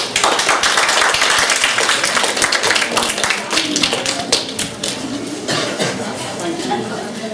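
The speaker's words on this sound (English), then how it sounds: "that was a nice clap" An audience claps to welcome a speaker being introduced, dense applause that is loud at first and then thins into scattered claps before fading out.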